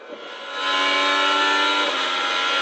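An IndyCar race car's engine screams at speed during qualifying, a loud, high, steady onboard drone that swells in after a brief quiet start and holds without pause.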